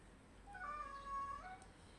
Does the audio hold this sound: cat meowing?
yes